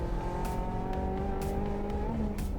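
A drift car's engine holds a steady, high, droning note down a long straight on a race track, loud and continuous, with brief hissing bursts recurring about once a second.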